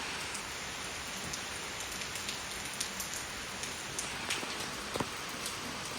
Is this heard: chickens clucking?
no